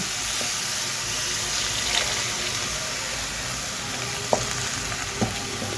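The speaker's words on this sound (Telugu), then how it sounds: "ఇప్పుడు ఇందులో కొంచెం వాటర్ వేసుకుందాము." Tomato curry sizzling and simmering in a pan just after water is poured in, a steady close hiss with a few faint clinks near the end.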